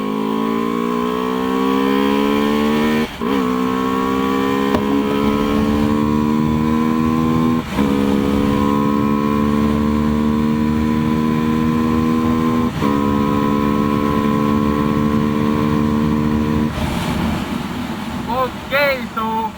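A Pulsar RS200 200cc motorcycle accelerates hard from second gear in a 0 to 100 test, its engine note loud and close, climbing steadily with brief dips at each of several gear changes, and rising again until the end.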